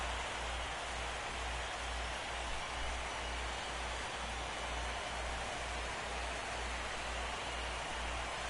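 Steady broadband rain hiss from the MLB The Show 16 baseball video game, filling the whole stretch evenly with a low rhythmic rumble underneath and no talking.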